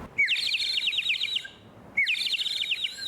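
A water-filled bird whistle, a ceramic toy made to look like a migratory bird, gives two loud warbling chirps that imitate birdsong, each about a second long with a short pause between.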